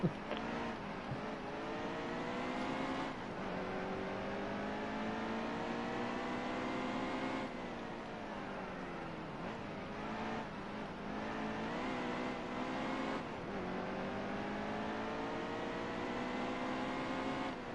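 Race car engines from the NASCAR Heat 2 racing game drone and rise through the gears in long sweeping pulls, dipping and climbing again as the car brakes and accelerates, with no talking.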